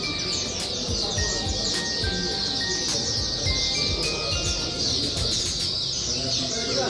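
Many caged songbirds chirp and trill at a bird singing corner in Singapore, with bright repeated tweets and whistled notes over a busy background and murmured voices.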